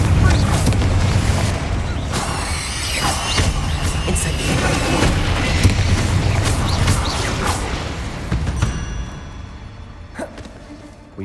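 A Confringo spell bursts in the Hogwarts Legacy video game with loud booming explosions and crashing impacts, layered over game music and whooshing effects, with a few sharp blasts spread across the scene.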